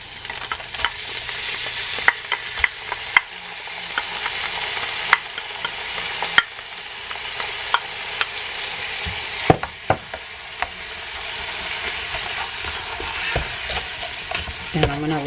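Onion, garlic and ginger sizzle steadily in a pan while being stirred, with repeated sharp utensil scrapes and clicks over a continuous frying hiss, for a ramen dish.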